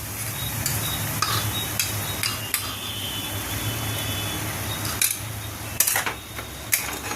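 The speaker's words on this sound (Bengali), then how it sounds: "আর আদা রসুনের পেস্টটা দিয়ে একটু নাড়াচাড়া করে নিয়ে" Ginger-garlic paste frying in a pan for prawn makhana malai, under a steady sizzle with intermittent scraping and clinks of a spoon stirring against the pan, close and moderately loud.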